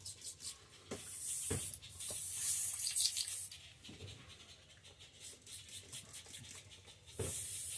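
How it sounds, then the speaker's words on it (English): An airbrush sprays leftover pearl paint through to clear it, giving bursts of broad hissing spray that start and stop in several spurts, close and fairly loud, with no talk. "I forgot to clean out my airbrush. Get all that pearl out of there spraying low."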